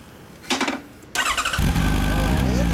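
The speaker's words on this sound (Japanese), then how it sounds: "ごめんなさい、エンジン音聞かせてもらえますか。" A 2016 Honda CB1300 Super Four E Package Special with stock exhaust starts up nearby: a brief whirr of the starter, then the engine catches and settles into a loud, steady idle.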